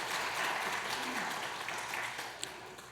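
Applause from a church congregation during a Sunday worship service certificate presentation, a steady wash of clapping that holds for about three seconds and begins to thin toward the end.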